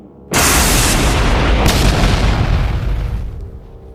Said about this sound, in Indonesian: Sosok raksasa itu melepaskan ledakan lava dari tangannya, menghantam langsung ke arah Tori.